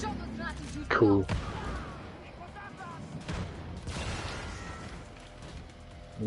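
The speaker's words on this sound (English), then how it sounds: "Making a lot of explosions." Gunfire and explosions in the shooter Wolfenstein: Youngblood, with a few heavy broadband blasts and rumbling bursts over a continuous low game din, fairly muted overall.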